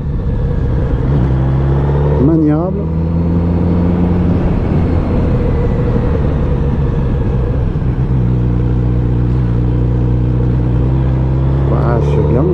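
Kawasaki Z900 RS motorcycle engine and airbox intake hum steadily while riding, a continuous mid-pitched drone with slight rises in revs, running under someone talking throughout.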